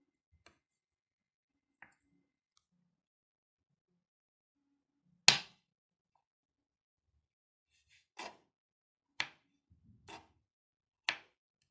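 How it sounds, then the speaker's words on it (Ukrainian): Vegetables for a vinaigrette salad being chopped with a knife on a cutting board: a few sparse, sharp single cuts with long quiet gaps between them, close and clear, with no talking. "Нарізаю овочі."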